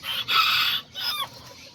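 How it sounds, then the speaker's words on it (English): A small serama rooster gives a short, high crow followed by a briefer clucking call, close and fairly loud, lasting under two seconds in total. "That's my little white girito."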